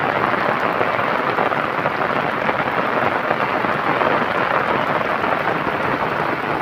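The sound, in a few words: heavy rain falling during flood in Cormons, Italy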